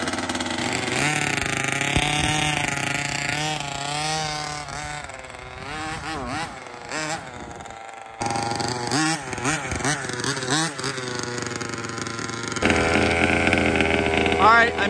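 A 7.5HP gas engine in an HPI Baja 5B RC car runs loud and close, its buzzing two-stroke note repeatedly revving up and down in sweeping bursts, with a brief cutout before it rips again at high revs.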